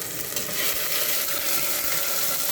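Garlic sizzles in hot oil for a chicken curry, a dense, loud, continuous hiss with faint spoon-stirring scrapes beneath, close to the pan; no one talks.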